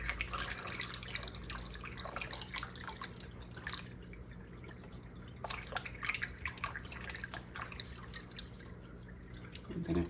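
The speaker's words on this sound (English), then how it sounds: "I rinse the vinegar bottle really well before filling it with fridge water." Fridge water drips and trickles steadily into a rinsed vinegar bottle, a continuous faint liquid patter with scattered sharper drops, fairly quiet and close with no voices.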